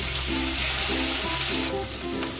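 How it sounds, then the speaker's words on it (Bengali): Ginger paste drops into asafoetida sizzling in hot oil for a traditional Bengali vegetarian dish; a steady, close frying hiss runs throughout and shifts in texture partway through as the paste goes in. "দেখো এবার দিয়ে দিচ্ছি 1 টেবিল চামচ আর একটু দেবো দিয়ে আদা বাটা"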